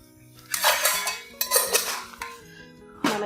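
Spoon clinking against a metal pan as a spoonful of oil is added for tempering spices for a pea kurma, several bright metallic clinks and scrapes close up with no voice over them.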